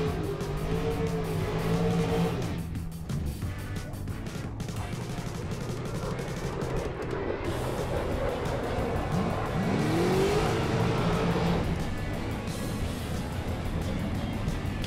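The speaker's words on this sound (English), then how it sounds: "Gabe with the traditional longer burnout" A drag racing car at The Strip does a long burnout during the Fall Fling West event. The engine roars loud and close with rising revs, and tire squeal and crackling bursts pile on top, running steadily for about fifteen seconds without talk.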